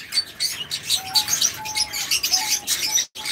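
A pair of opaline budgerigars, split opaline and fisher opaline, chirp and tweet continuously at a bird farm, with several overlapping birds calling close by in bright, busy bursts.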